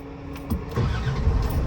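A Land Rover Defender 90 TD5 soft top diesel engine cranks briefly, then catches and settles into a steady, close running rumble with no talk over it.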